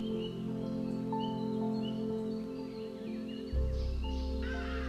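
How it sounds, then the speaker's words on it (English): Crow-like caws and scattered bird calls ring out in Dlinza Forest over a steady low hum, with a louder low drone rising near the end. "There are birds calling everywhere, insects are buzzing"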